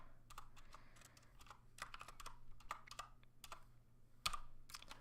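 Computer keyboard keys clack in quick, uneven bursts, close and fairly quiet, with a low steady hum underneath while code is typed.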